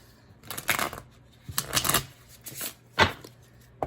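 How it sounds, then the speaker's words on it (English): A tarot card deck is shuffled in several quick riffling bursts with short pauses between them, close and clear, with no talking. "I feel like we need a good shuffle."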